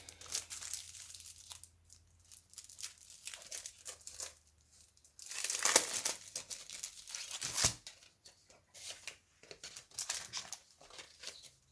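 Paper crinkles and tears in irregular bursts as someone rummages for a sheet, dry rustles rising and falling close by with a few louder rips.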